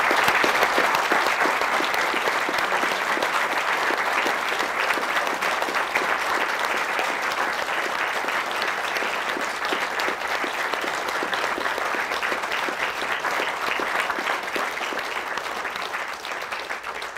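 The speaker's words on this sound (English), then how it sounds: "let's give Professor Dougan a warm round of applause." Sustained, loud applause from a lecture audience at a North Wales for Europe event, honouring Professor Michael Dougan: a thick, even wash of many hands clapping that continues for over fifteen seconds with little change.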